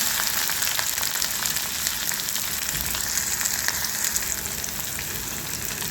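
Onion and garlic frying in a pan for spicy onion-tomato chutney, a dense, loud continuous sizzle up close with faint stirring, no speech.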